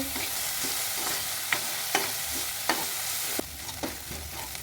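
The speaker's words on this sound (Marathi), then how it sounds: "आता आम्ही टमॅटो टाकलेला आहे" Tomatoes cooking for pasta in a hot pan give a continuous close sizzle, punctuated by several sharp stirring clinks and scrapes at irregular intervals; no voices.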